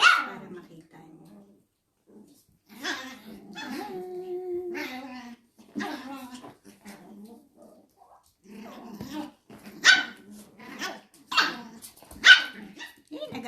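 Several pet dogs scuffle and bark at home. Sharp barks and yips mix with whimpers and a drawn-out whine, rising into a cluster of loud, close barks toward the end.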